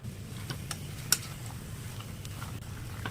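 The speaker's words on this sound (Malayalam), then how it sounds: "നമ്മുടെ ഈ മസാലയെല്ലാം ചിക്കൻ കഷ്ണങ്ങളിൽ പിടിക്കുന്ന തരത്തിൽ നന്നായിട്ട് ഇളക്കി യോജിപ്പിച്ച് ചേർക്കണം" Chicken pieces are stirred into masala in a pot, giving faint, scattered metallic clinks and taps from the spoon against the pot over a low steady background hum.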